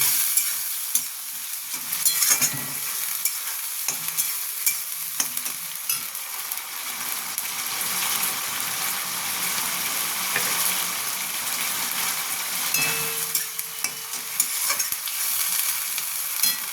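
Ginger and green chili paste frying with shrimp in a pan, a steady close sizzle with stirring scrapes running throughout, no voices.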